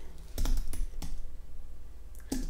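Typing on a computer keyboard, a few quick bursts of key clicks close by with short pauses between them, in a quiet room.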